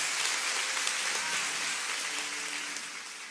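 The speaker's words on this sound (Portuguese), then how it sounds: "Pode aplaudir." A church congregation applauds during a sermon, a dense even wash of clapping, soft and somewhat distant, holding steady throughout the clip.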